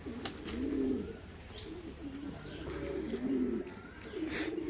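Pet pigeons cooing close by in soft, repeated throaty rolls that overlap one another, with a few faint chirps and background clatter.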